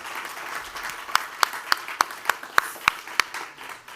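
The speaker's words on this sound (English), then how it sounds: "I'd like everyone to start by giving our panel a round of applause" An audience at an ocean conservation panel on gender equity gives a round of applause for the panelists, a light, fairly sparse clapping with a few sharp, loud individual claps standing out in a steady rhythm.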